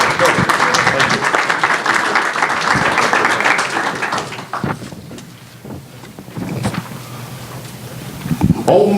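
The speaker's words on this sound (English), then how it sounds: "Let's give them all a big round of applause for all the work they're doing" Audience at a city council meeting applauds, a dense wash of clapping that gradually thins and fades out, then a few scattered claps and stirrings follow.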